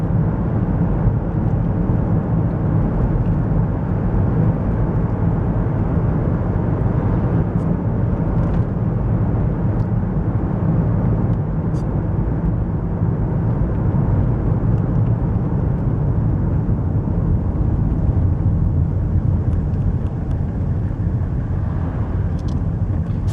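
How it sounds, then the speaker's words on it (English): Mercedes-Benz W124 300TD with a multivalve straight-six diesel engine, heard from inside while driving behind a tractor: a steady, smooth low engine drone with road rumble, continuous and fairly loud throughout, with no talking. "A very, very well refined engine this is."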